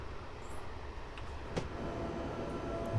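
A quiet train rolls past in the Train Simulator game on the Zurich to Vienna mountain route, a steady low rumble with a faint mid-point clack, no talking.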